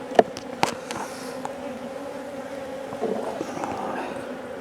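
Agitated honey bees droning around an open hive, a continuous buzzing hum with a few sharp close ticks and taps early on, no voices.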